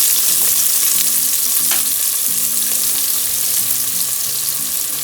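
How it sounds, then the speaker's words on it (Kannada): Onions frying in a pan for tomato bath, with a loud, dense, continuous sizzle and hiss near the mic and faint low clatter and stirring underneath. "ನೆಕ್ಸ್ಟ್ ಇವಾಗ ಈರುಳ್ಳಿ ಹಾಕೊಳ್ತಾ ಇದೀವಿ"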